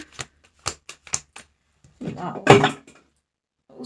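Oracle cards being shuffled by hand for a Shirdi Sai Baba guidance reading, heard as several short crisp riffles followed by a longer louder burst of card rustling, close and alone without talk.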